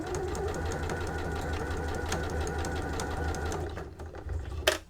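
A sewing machine runs steadily while top stitching along the edge of a fabric gift wrap, a close, even mechanical whir with rapid needle pulses that slows and stops near the end with a sharp click.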